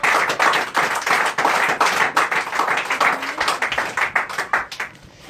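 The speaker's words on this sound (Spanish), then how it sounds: "Dale un fuerte aplauso para el Señor." A church congregation gives a loud, sustained round of applause for the Lord, dense clapping running steadily throughout and thinning slightly at the end, with no talk over it.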